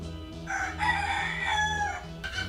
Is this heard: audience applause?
no